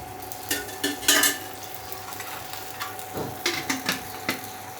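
Wheat ghavan pancakes fry in oil in a kadhai with a soft sizzle, broken by several sharp scraping and clinking stirs of a utensil against the pan, close and without talk.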